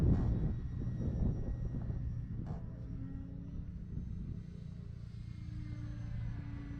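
A ParkZone Sport Cub S2 RC airplane flying outdoors on a windy, sunny day, its small electric motor giving a steady buzzing drone with a humming tone that rises slightly, heard at moderate distance under wind rumble.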